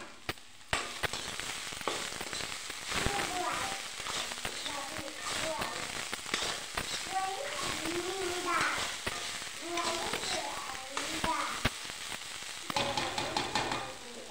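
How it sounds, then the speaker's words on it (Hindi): Cabbage leaf greens frying in a pan over a low flame, giving a steady crackling sizzle with occasional stirring scrapes, close and continuous throughout, with no talking. "तो दोस्तों इसको अच्छे से भून जाने देते हैं, लो आंच पर भूनेंगे।"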